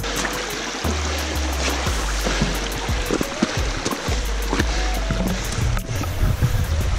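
A runner splashes through water on a mountain trail in the Pilat hills, with a steady wash of flowing, splashing water and irregular footfall splashes close by, and no talk.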